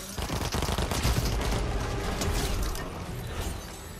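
Rapid SMG gunfire in the Fortnite video game, a dense, continuous rattling stream of close, loud shots with mechanical clatter, heard alone without talk.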